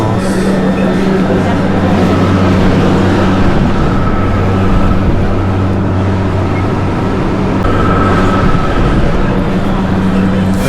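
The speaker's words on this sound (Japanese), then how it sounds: "地下鉄のイダルゴ駅で電車が来たので乗ります" A Mexico City metro train arriving at Hidalgo station rumbles and hums steadily with a loud low drone and rail noise throughout, as if heard from inside a moving carriage.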